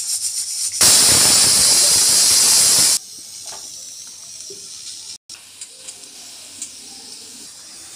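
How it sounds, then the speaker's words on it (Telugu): Peanuts and dried red chillies hit hot oil with a loud, sharp burst of sizzling hiss that lasts about two seconds, then settles to a faint, quiet crackle. "నూనెలో ఇట్లా బాగా వేయించుకోవాలి శనగిత్తనాలు."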